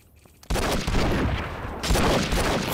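Dense burst of rapid gunfire from the video game Enter the Matrix, starting abruptly after a quiet moment and continuing loud and sustained as overlapping shots pile up.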